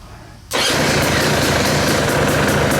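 A KTM motorcycle engine fires up on the electric start with the choke on, bursting from near silence into a loud, steady running roar right up close.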